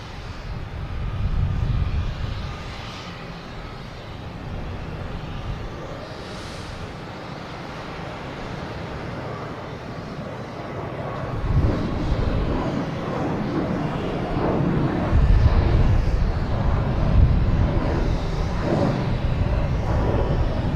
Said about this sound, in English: Next taking off, we have a Delta heading to Las Vegas, an A321neo flight